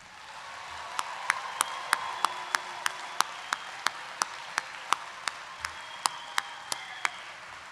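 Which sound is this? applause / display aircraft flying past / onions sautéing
applause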